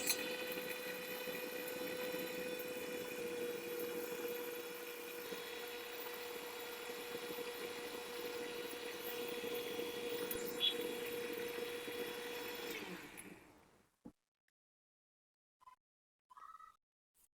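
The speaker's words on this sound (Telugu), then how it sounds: "ఇలా మిక్సీలో బాగా మెత్తగా గ్రైండ్ చేసుకోవాలి." A kitchen mixer grinder blending grapes with water into juice runs with a loud, steady motor whine for about thirteen seconds, then winds down and stops, followed by a few faint knocks.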